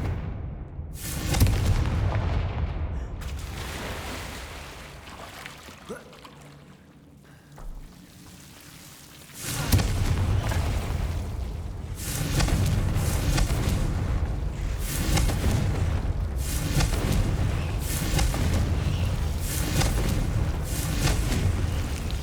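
Confringo fire-blast spells explode in Hogwarts Legacy on PS5, a run of loud booming blasts that repeat rapidly and merge into a dense, continuous roar of detonations.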